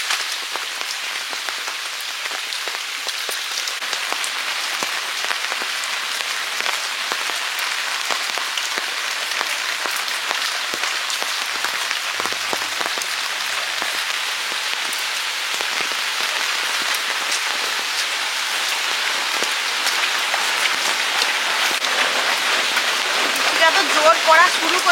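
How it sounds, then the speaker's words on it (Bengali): Heavy rain pours steadily onto a village yard and pond, a dense, loud hiss that is unbroken throughout and builds slightly toward the end, with no voices over it. "বৃষ্টিটা তো জোর পড়া শুরু করেছে"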